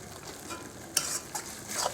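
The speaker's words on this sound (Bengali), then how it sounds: "এবার এখন এটাকে খুব ভালো করে করে কষে নেব" Onion, garlic, tomato and spice masala frying for ghugni made with goat fat, a close steady sizzle with a few sharp scraping stirs, no voices.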